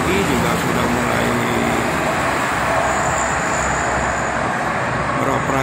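Morning traffic on the Jakarta-Cikampek toll road, with buses among the vehicles: a dense, continuous roadway roar and tire hiss, loud and steady, with a voice speaking over it.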